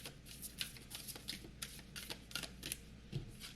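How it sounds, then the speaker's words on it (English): Oracle cards are shuffled and pulled close up, giving soft, rapid riffling flutters in uneven bursts, fairly quiet and without any talk. "let's pull some The Universe Has Your Back cards"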